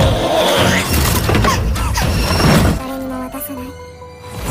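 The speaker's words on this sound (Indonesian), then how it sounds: "Akhirnya Miyuki tertabrak kereta api dan hancur berkeping-keping." A train smashes into a monstrous creature, a loud, dense crash lasting nearly three seconds before cutting off to quieter tonal sounds.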